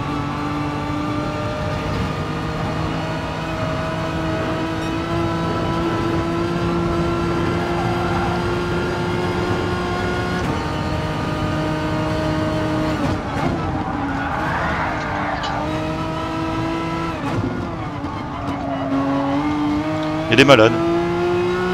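Race car engines in Gran Turismo Sport on the Nordschleife drone steadily, with sustained engine tones shifting pitch throughout. Someone talks over them the whole time.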